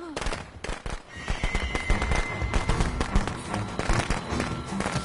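Fireworks in Friday the 13th: The Game go off as a dense, rapid barrage of cracks and pops layered with game noise and a tonal whistle, loud and continuous throughout.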